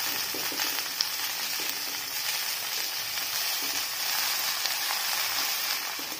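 Manathakkali greens fry with onions in a pan for poriyal, producing a steady, even hiss of sizzling with occasional faint stirring sounds underneath.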